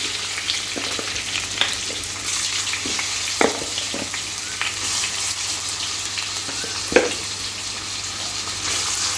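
Chicken and curry leaves fry in hot oil for Kerala-style chicken kondattam, a dense, steady sizzle close up, broken by scattered sharp pops and crackles throughout.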